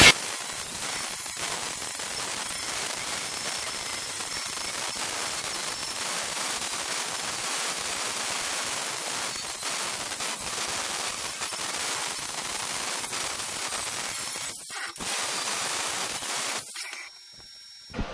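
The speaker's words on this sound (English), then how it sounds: "I'll grind those ones up and then get on to the next one" An angle grinder grinds down welds on the rear body of a 1976 BMW 2002 during rust repair, a loud, continuous harsh metallic roar lasting about fifteen seconds before cutting out.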